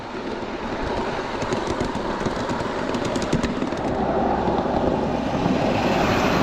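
Miniature ridable train at Train Mountain climbing an uphill grade, with a steady loud rumble and clatter of wheels on track that holds throughout, close by and without talk.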